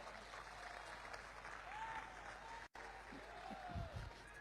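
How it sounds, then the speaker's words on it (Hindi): Audience clapping in a lecture hall during a Hindi talk, a steady wash of applause running throughout with a brief dropout midway and some faint voices underneath. "यहां तो तालियां बजी।"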